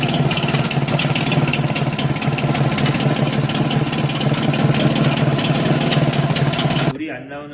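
A Mercury 4.9 hp outboard engine idles with a fast, even, chugging pulse, close and loud for about seven seconds before it suddenly drops away near the end.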